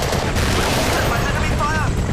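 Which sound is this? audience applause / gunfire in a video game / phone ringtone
gunfire in a video game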